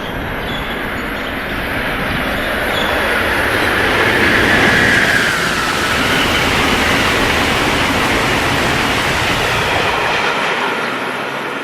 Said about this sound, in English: And I see one more distant, newfangled loco.